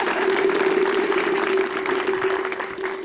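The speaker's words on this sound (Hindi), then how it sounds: "उस बात पे भी इनके लिए तालियां होनी चाहिए" Studio audience applause for a guest on a Bollywood talk show, a dense, steady wash of many hands clapping that holds for a few seconds and eases slightly toward the end, with a sustained tone running underneath.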